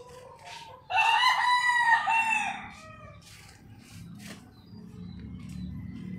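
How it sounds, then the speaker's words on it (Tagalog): A rooster gives one loud, close crow, followed by softer clucking and scattered farmyard noise from chickens kept by a relative, with no voices. "Manok ng pinsang ko."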